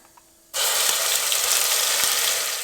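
After a quiet moment, a loud steady sizzle bursts out as onions hit a hot pan for red kidney bean curry, hissing close up without pause.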